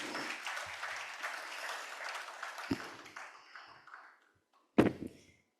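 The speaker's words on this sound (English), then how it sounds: "Please give them a round of applause." Audience applause for newly inducted members at an institute of directors ceremony, a full round of clapping that fades to silence, followed by a single sharp knock or tap.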